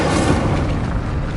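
The Incendio fire spell cast in Hogwarts Legacy lets out a short, heavy whooshing boom of flame, loud and close, rumbling for about a second before tapering slightly.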